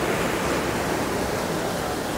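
Ocean waves breaking on the coast at Matara, Sri Lanka, a loud, steady broadband surf roar with no pause, filling the whole moment without talk.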